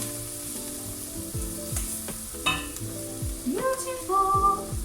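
Food sizzles loudly in a frying pan in a home kitchen while being mixed, a continuous hiss of frying broken by scraping and clattering stirs.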